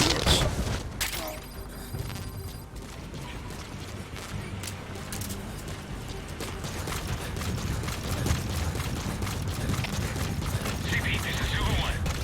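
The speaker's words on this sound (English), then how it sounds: "We're hearing gunfire." Rapid bursts of gunfire in Metal Gear Solid V: The Phantom Pain crackle amid mechanical clatter and a constant dense rumble, with distant sharp pops continuing throughout.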